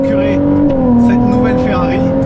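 A Ferrari 296 GTB with a V6 engine accelerating, a loud, close, rising engine note with a slight pitch dip partway through, under steady talking.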